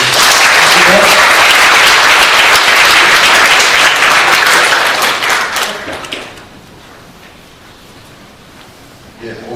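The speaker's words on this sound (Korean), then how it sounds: "다 같이 5분을 위해서 박수 한번 부탁드립니다." Audience applause fills a Korean institute's 50th anniversary ceremony, loud and steady crowd clapping for about six seconds before fading to a quiet room, with a brief burst at the end.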